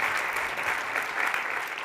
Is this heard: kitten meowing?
no